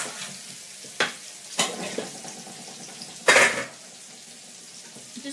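Potatoes are stirred in hot fat in a pan, with a soft steady sizzle under a few sharp scrapes and clinks of the spoon against the pan.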